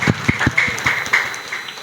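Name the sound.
applause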